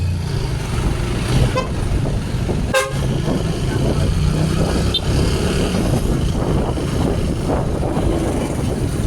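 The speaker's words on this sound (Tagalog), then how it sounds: "Binusinahan ko, busina rin." Steady traffic rumble with a brief car horn toot partway through, under ongoing engine noise.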